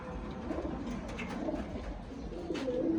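Several pigeons coo in a soft, low, rolling rhythm, heard up close over a constant low background rumble.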